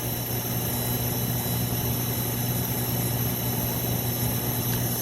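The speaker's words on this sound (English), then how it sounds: "I got a fan blowing on this one" A fan blows on a furnace with no heat in a rough industrial setting, giving a constant steady whirring hum with a low tonal drone and no pauses.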